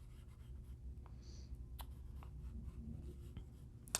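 A pencil scratches softly on paper while sketching an eye, with faint, quiet strokes and brief scratchy marks over low background hiss.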